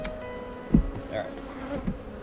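Honeybees buzz faintly around a November hive inspection, with a low insect drone and a few brief close passes over a soft background.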